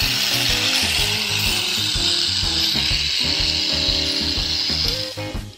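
A Crush Gear toy battle top's gears whir and ratchet steadily with a dense mechanical clicking rattle, loud and close, before winding down at the end.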